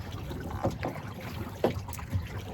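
Small waves slosh and lap against a kayak hull on open water, with a few soft splashes and trickles rising briefly over a steady low wash, close by and without talk.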